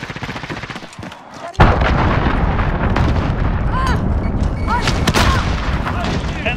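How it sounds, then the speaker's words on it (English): Enemy cruise missile strikes in Call of Duty Modern Warfare Team Deathmatch erupt into a sudden loud blast, followed by sustained rumbling explosions and rattling gunfire, with whistling and chirping game effects layered over the dense battle din. "Enemy cruise missile incoming."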